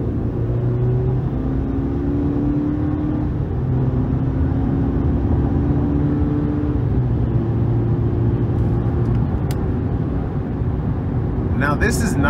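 A 2023 GMC Sierra 1500 pickup with a 2.7L turbo engine accelerates from inside the cab, its steady engine drone rising gradually in pitch through the gears under constant road noise.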